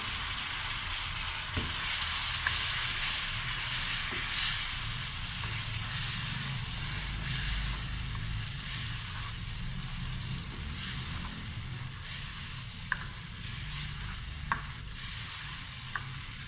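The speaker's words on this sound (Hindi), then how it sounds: "शीरा हम इसमें थोड़ा थोड़ा करके ऐड करेंगे, पहले हाफ ऐड करेंगे और इसको अच्छी तरह से मिक्स करेंगे।" Semolina halwa being stirred in a pan after jaggery syrup is added, with a loud, continuous hiss and sizzle under steady stirring and a few sharp clicks toward the end.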